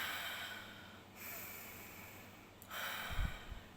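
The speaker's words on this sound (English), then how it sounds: "take 10 deep breaths" Slow deep breathing close to the microphone, long airy inhales and exhales with a heavier, snort-like breath near the end, no talk.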